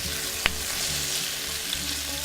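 Sausage, peppers and onions fry in a pan with a steady, close hiss and crackle, broken by one sharp clink near the start and a fainter tap later; no one speaks.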